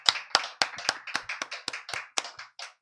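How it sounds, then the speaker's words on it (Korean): Hand claps from a church congregation, a steady run of sharp, separate claps at an even rhythm, close and clear with no talk over them. "우리 영광의 박수 하나님께 올려드립시다."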